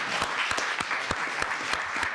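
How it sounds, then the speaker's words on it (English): An audience claps for the speakers at an evening talk about addiction, with a steady patter of many hands and slightly faint, even applause and no talking over it. "Let's give them a round of applause so far."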